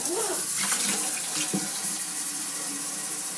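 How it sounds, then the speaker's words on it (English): Water runs steadily into a vivarium drainage system, a constant close rushing splash like a running tap, alone. "I'm going to start running the water."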